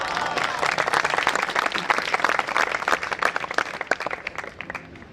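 A crowd at a Hindi religious discourse claps in a thick, uneven patter that swells and then thins toward the end, with a voice faintly underneath.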